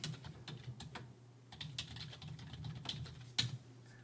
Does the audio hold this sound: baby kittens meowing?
no